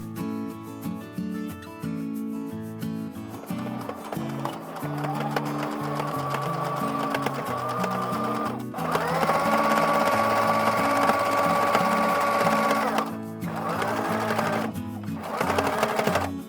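A sewing machine stitches a fabric tote bag in bursts, its motor whirring up to a steady high hum and pausing between runs, close and prominent with no talk.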